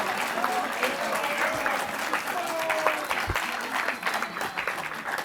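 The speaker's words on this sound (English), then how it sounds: "Please give him a round of applause." A school debate audience applauds a student helper with close, sustained clapping, lively and uneven, carrying on for over five seconds with some voices mixed in.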